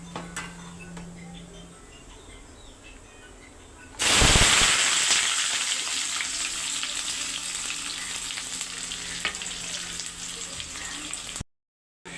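Onions hit hot mustard oil in a Bengali home kitchen, bursting into a loud sizzle that then settles into steady frying, with a faint clink or stir now and then, before cutting off abruptly.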